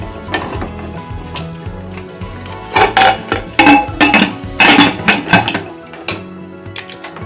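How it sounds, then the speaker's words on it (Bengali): A pressure cooker of home-style chicken kosha being shut: a burst of loud metallic clanks, scrapes and clatters from the lid and pot, close up, with sparse clicks before and after. "ওই জন্য আমি প্রেসার কুকারটা বন্ধ করে একখানা সিটি দেব।"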